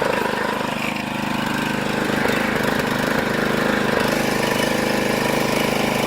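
Just after starting, the small engine of a Power Tow Tug for a Cirrus SR22 runs steadily and close by, a continuous buzzing idle with no voices over it.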